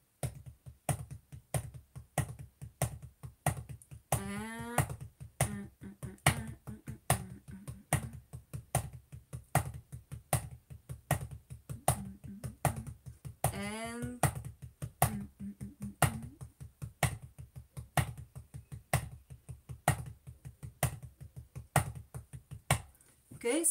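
Drumsticks tap a practice pad in quick, dry, evenly spaced strokes, with the rhythm shifting through changing stroke groupings. Brief bits of a voice come through.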